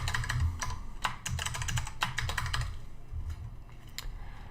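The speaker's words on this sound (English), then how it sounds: "I'm going to type in the password here." Rapid, irregular keystrokes on a computer keyboard while a password is entered, close and fairly steady across the whole stretch, with brief gaps between bursts of clicks.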